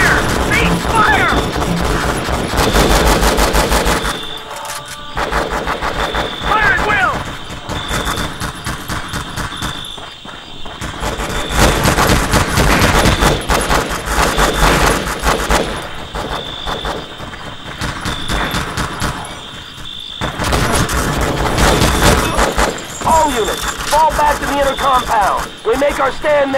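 Heavy gunfire in the Vietnam War video game Conflict: Vietnam during the Tet Offensive, with dense bursts of automatic fire and crashing impacts running loud and nearly continuous, briefly easing in places, with voices shouting over it.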